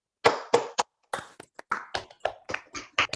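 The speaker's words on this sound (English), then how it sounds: "Let's all unmute and give Katie a round of applause." Applause from people on an online video call, scattered separate claps and taps from several unmuted participants, uneven in rhythm and close to the microphones, with silent gaps between bursts.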